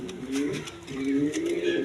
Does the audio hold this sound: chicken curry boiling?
no